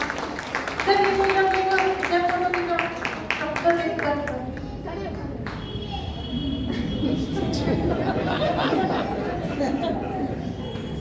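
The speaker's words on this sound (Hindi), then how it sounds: "तालियां, जोरदार तालियां।" An audience at a junior Arya Samaj kids programme in Bangalore claps and cheers. The applause swells into a dense, sustained roar in the second half, under talking and chatter.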